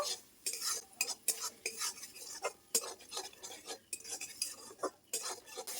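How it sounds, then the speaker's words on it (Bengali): A spoon scrapes and stirs spice masala with cumin powder in a pan for an okra curry made without onion or garlic. The clinks and scrapes come in quick, irregular bursts, close and fairly quiet, with no voices. "মশলাটা আমি ভালো করে কষিয়ে নেব"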